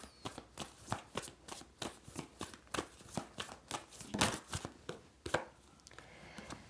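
Tarot cards being shuffled by hand in a series of crisp, rhythmic riffling bursts, close and fairly quiet, with no talking.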